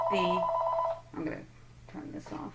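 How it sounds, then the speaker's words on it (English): A telephone rings loudly near the microphone for about a second, its double-tone bell clear, then stops as a person begins talking in a quiet indoor room. "sorry about the phone, I'm going to ignore"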